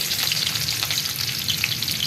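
Garlic sautéing in a hot pan for a Filipino ginisang gulay, a loud, steady close-up sizzle and crackle of frying oil with light stirring, no voices.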